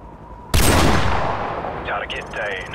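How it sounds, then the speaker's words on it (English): A single loud, sharp sniper rifle shot in Call of Duty 4 cracks out and decays slowly with a long reverberant tail, followed by faint background game sounds. "Patience, laddie, wait for a clear shot."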